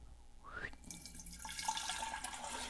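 Water is poured in a faint, steady trickle that starts about a second in and continues to the end, quiet and close, with no voices.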